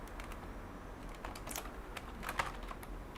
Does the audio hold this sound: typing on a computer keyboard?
yes